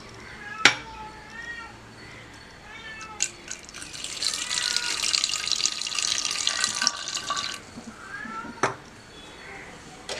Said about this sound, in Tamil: கொண்டக்கடலையை போட்டு ஒரு 1/2 டம்ளர் தண்ணி ஊற்றி வேக வைக்கலாம்